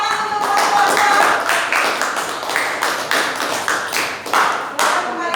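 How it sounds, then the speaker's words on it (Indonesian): A classroom of students clapping for a group that has just presented, with uneven claps in loose bursts, close and fairly loud, rising and falling over a few seconds. "silakan tepuk tangan untuk kelompok 2"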